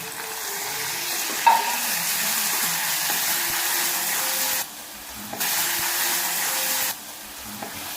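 Onions and tomatoes sizzle and fry steadily in a pan, with a brief clatter of stirring and the hiss dropping away twice for a moment.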